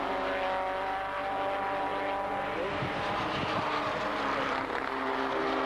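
A Formula Vee race car at Silverstone passes, its engine drone layered over a dense, loud, continuous roar of other cars and ambient noise, with pitch shifting slightly as it goes by.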